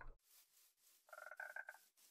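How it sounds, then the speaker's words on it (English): Frog croaking in the video game Minecraft, a short burst of several quick raspy croaks near the end after a brief low thump, otherwise quiet. "A frog? I have never seen a frog before."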